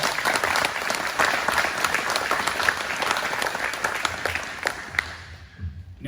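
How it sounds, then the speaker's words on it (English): At an annual meeting, an audience gives sustained applause for utility linemen, a full, steady roar of clapping that continues evenly before tapering off at the end. "if we can get a round of applause"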